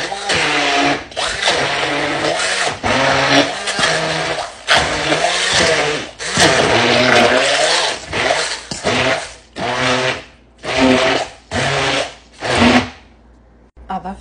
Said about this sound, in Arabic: راح أضربها بالمضرب